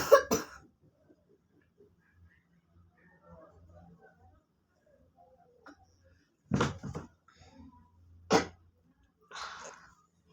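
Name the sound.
coughing from people with colds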